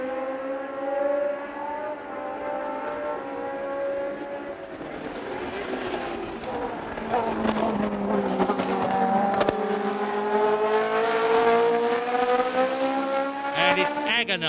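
Formula 1 race cars at the 1978 BRDC International Trophy, one with a misfiring engine, drone past with a sustained, rising and falling engine whine, loud and continuous, with commentary talk over it.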